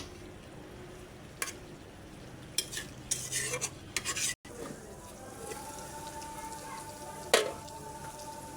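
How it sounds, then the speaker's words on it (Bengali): Curry frying in a pan while being stirred, with a quiet sizzle beneath a cluster of sharp scraping and clinking strokes around the middle, then calmer frying with one more clank near the end. "ভালো করে নেড়ে চেড়ে দিচ্ছি।"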